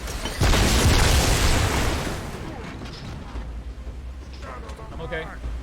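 A grenade blast in the Halo 2 video game, a loud broadband boom with a deep low rumble that swells early and fades over a couple of seconds, followed by quieter combat noise and scattered effects.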